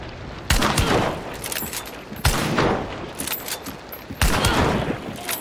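Shotgun fire in a multiplayer video game: three loud, evenly spaced blasts, each with a booming reverberant tail, over a constant background of game noise.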